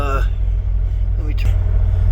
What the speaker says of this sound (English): I'm idling the truck.